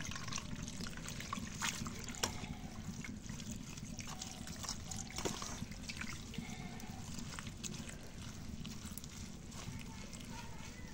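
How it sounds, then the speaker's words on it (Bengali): Cold water pours into a cooking pot in a home kitchen with a steady, close trickling and splashing that runs unbroken for about eleven seconds over a constant background hiss. "এখন একটু ঠান্ডা পানি দিয়ে নেই।"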